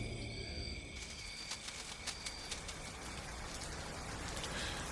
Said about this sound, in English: rain drowned the countryside, soaking Elouan in the deluge